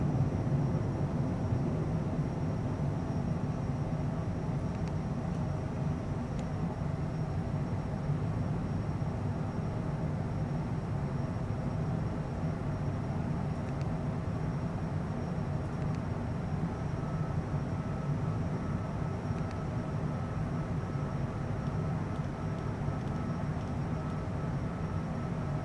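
Steady, dense roar of Citation Bravo jet engines climbing just after takeoff, heard from inside the cockpit as a continuous broadband drone with no talk.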